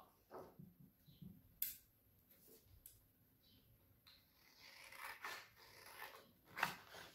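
Scissors cutting paper at close range in a quiet room: a few faint, scattered snips and rustles, spaced irregularly over several seconds, with no talk.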